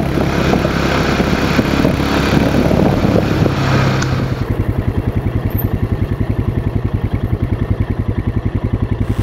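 A 2018 Royal Enfield Himalayan motorcycle is ridden, first as loud rushing wind and road roar, then its single-cylinder engine thumps in a steady, rapid, even beat, close and continuous with no talking.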